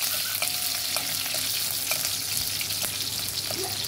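Garlic and green chillies fry in oil for kadhi, hissing steadily while a spoon stirs and taps against the pan in scattered strokes, close and without voices.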